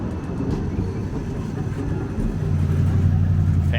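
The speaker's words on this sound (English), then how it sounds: "we did find the streetcar" A New Orleans streetcar rumbles past close by, its low mechanical drone and rail noise building steadily toward the end.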